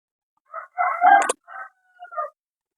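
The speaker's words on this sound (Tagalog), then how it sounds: "Ingay ng manok guys" A chicken clucks and squawks in a few short bursts, fairly close, with quiet pauses between calls.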